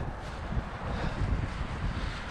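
Wind gusts across an open riverbank on a fishing outing, a steady low roar buffeting the microphone for a couple of seconds, with a faint watery wash beneath and no voices.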